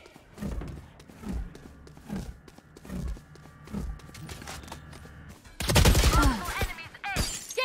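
Valorant gunfire in a ranked match, a loud sustained burst of shots with crashing impacts after a stretch of softer thuds and footsteps, with a voice talking over parts of it.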